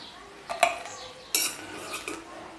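Roasted cluster beans (gavar) are scraped from a pan onto a plate with metal utensils, making two short bursts of clinking and scraping close by over a quiet background.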